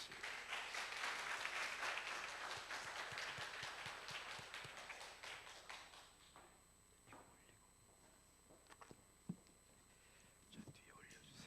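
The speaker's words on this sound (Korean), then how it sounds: "박수로 환영하시겠습니다." Church congregation applauding to welcome a speaker, sustained dense clapping that fades after about six seconds, leaving soft murmurs and a few footsteps.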